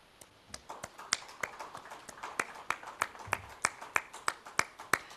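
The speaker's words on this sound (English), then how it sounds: "Keep the applause going" Sparse, steady clapping from a small audience welcoming a speaker onto the dais at the India Internet Governance Forum 2023, sharp individual claps in a loose, even rhythm, fairly faint and without talk.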